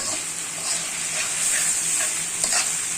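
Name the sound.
potatoes cooking in a pan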